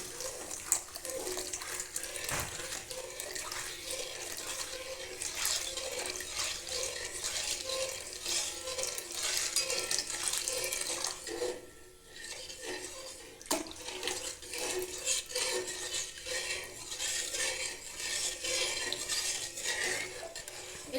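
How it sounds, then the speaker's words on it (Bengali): Rice paste being stirred into boiling water in a cooking pot, a continuous soft watery sloshing and scraping with occasional clinks, fairly quiet and steady, no talking. "এখন এতে এই চালের পেস্টটা অল্প অল্প করে দেবো আর নাড়বো"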